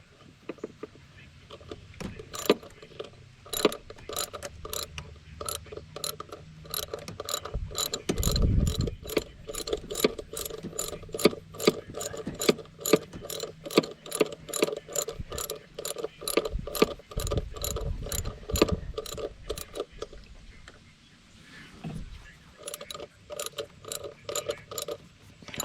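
A ratchet tightens the spark plugs on a 2002 Dodge Dakota with a steady series of crisp, evenly spaced clicks over about twenty seconds, close up, with faint handling noise underneath.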